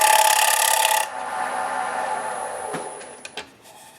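A file rasps across a thin wood veneer about a thirty-second of an inch thick, a dense scraping burst for about a second, then lighter continued rubbing with a few small knocks near the end.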